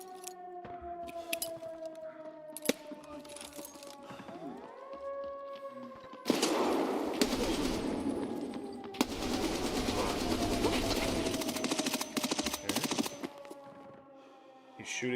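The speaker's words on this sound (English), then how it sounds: "He's shooting at me through the wall." Muffled gunfire comes through a wall in Escape from Tarkov, with bursts of rapid shots and heavy dense stretches of fire and scattered single cracks, all at moderate loudness over a steady tonal game hum.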